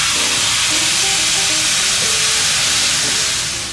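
Steak searing on high heat, a loud, close, unbroken sizzle and hiss that holds steady and eases slightly at the end.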